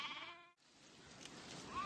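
A sheep in a herding flock lets out a quavering bleat up close, followed by quieter rustling, outdoor ambience and a faint distant call.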